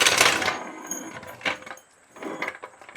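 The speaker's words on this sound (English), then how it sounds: "The call of the mechanic as he wheels his trusty trolley jack into position for the final attack on his prey" Trolley jack rolled into position under an Audi S3 in a garage, a few rattling metallic clanks and clicks of its wheels and handle, close and uneven, separated by brief quiet pauses.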